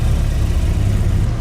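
A Lamborghini Huracan fitted with an IPE exhaust in sport mode rumbles with a loud, steady, deep engine drone up close, a brief uninterrupted stretch with no talking.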